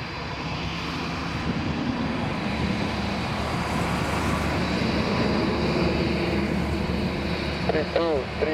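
Airliner rolling down runway 03 at Lisbon on its takeoff run, a loud sustained roar of jet engines filling the whole stretch, with a short burst of radio chatter near the end.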